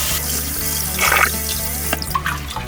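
Tap water runs into a kitchen sink while seafood and ingredients are rinsed for Thai rad na, a steady close wash with brief splashy bursts.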